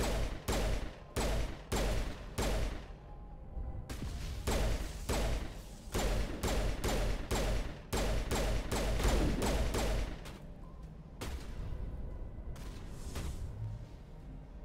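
Rapid gunfire bursts aimed at a turret in Mass Effect 1 Legendary Edition, loud and close, arriving in clustered volleys of sharp shots with brief pauses between strings throughout.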